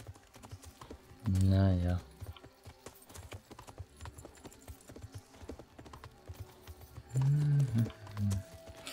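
Horse hooves clip-clopping during riding in Kingdom Come: Deliverance, a soft rhythmic patter throughout under someone speaking German, with louder voice bursts near the start and end.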